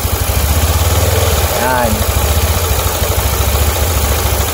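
A carbureted Honda Beat motorcycle engine, its tensioner cover removed and the tensioner noisy, idles with a steady mechanical chatter and gets a short rev in the middle. Someone speaks briefly over it.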